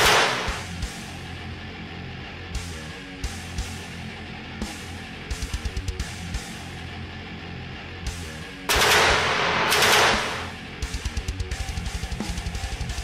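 Game sound effect of gun turrets firing during a Gaslands tabletop car battle, loud rapid machine-gun bursts in repeated volleys with a heavier sustained roar partway through, with no talking.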